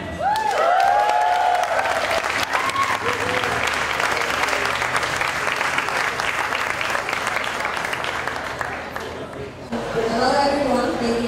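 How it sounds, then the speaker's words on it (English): Loud, sustained audience applause for a presenting group at an architecture talk, dense clapping that rolls on for about ten seconds with faint voices mixed in, then dips briefly before swelling again. "can we have a big round of applause for Len and company"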